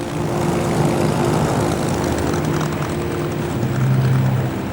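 A WWII RAF Spitfire fighter's piston engine drones steadily and loudly throughout, a continuous propeller roar with a low hum that swells slightly near the end, no voices present.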